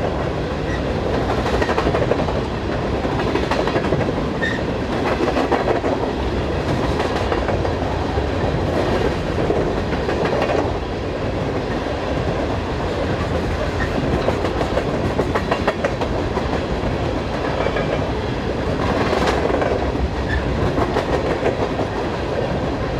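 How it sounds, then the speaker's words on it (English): A westbound freight train of grain hoppers rolls steadily past close by, a continuous loud rumble with rhythmic clickety-clack of wheels over rail joints throughout. "This train of grain hoppers are heading west with"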